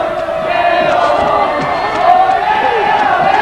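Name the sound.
football crowd singing in chorus, celebrating a goal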